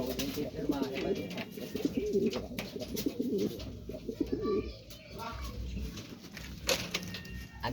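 Pigeons that have just bathed coo softly and repeatedly at close range, a low burbling rhythm running throughout with a person talking intermittently over it.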